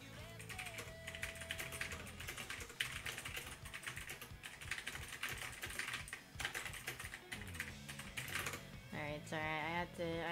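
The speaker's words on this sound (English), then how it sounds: "I had to type out some things" Someone types on a computer keyboard in a steady, rapid patter of soft key clicks that runs throughout, fairly quiet, with tonal background sounds underneath.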